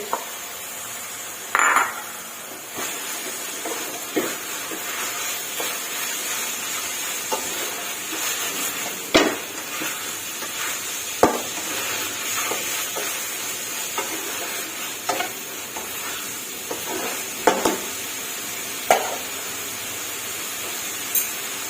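Cockles stir-fried with holy basil in a pan give a steady sizzle and hiss, with repeated clanks and scrapes of a utensil stirring the hot pan, up close and without talking.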